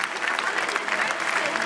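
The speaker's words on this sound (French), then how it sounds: "Attends que ça finisse d'applaudir." Audience at a festival speech in Avignon applauding, a dense, steady clapping crowd filling the space without pause, with some voices mixed in.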